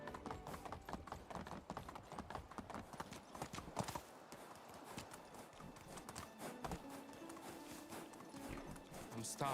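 Horse hooves clip-clopping at a steady walking rhythm in the video game Medieval Dynasty, continuous and fairly close, with background game sounds and light ambience.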